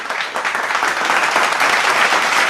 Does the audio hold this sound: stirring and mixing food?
no